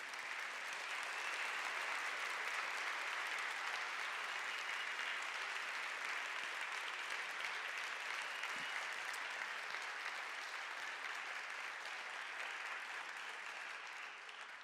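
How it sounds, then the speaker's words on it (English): A large audience gives a sustained round of applause for retired congressman Barney Frank, with dense, steady clapping that fills the room for the whole stretch and stays loud throughout with no talk over it. "let's give a final, maybe even standing round of applause to one of the most remarkable public officials of all time, Barney Frank"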